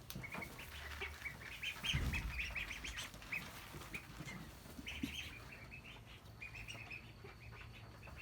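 A group of ducks at feeding time quack in busy, scattered bursts while wings flap, near and fairly faint, with no talking.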